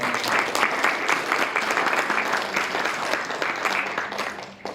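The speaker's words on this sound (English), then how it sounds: "So if we could have a quick round of applause" A panel audience claps in a quick round of applause, a dense steady patter of many hands that holds for several seconds before tapering off.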